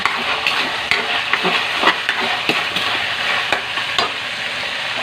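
Leftover cooked rice stir-fried in a hot pan with oyster sauce for malunggay fried rice, sizzling steadily with repeated scraping and tossing strokes of a spatula, close and fairly loud, no talking.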